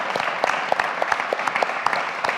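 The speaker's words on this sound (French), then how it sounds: "vous pouvez vous applaudir." A small audience at a concrete architecture school award ceremony applauds, a steady patter of individual claps with distinct sharp hits, moderately near and without speech.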